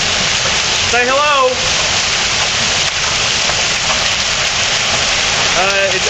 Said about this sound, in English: The hail's actually hitting my feet.